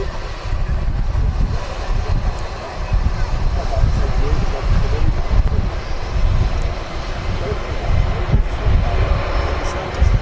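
A Ryanair airliner rolls for takeoff at Manchester Airport, its engines giving a loud, continuous low roar that swells and holds throughout, with people talking nearby.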